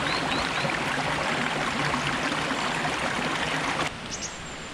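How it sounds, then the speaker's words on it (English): A babbling woodland stream near a reservoir, a steady close rush and trickle of water that fills the whole clip and drops slightly near the end, with a faint bird call. "At this junction there's another babbling stream."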